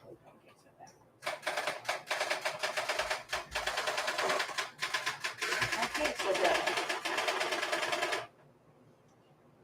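A new typewriter clatters in a dense, rapid burst of mechanical clicks as the backspace key is held down, running about seven seconds before stopping abruptly, with a person speaking briefly over the start.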